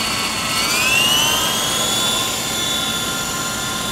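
A radio-controlled helicopter with a bent main rotor shaft runs nearby, a loud steady turbine-like whine with a high tone that rises and then holds, continuous without speech.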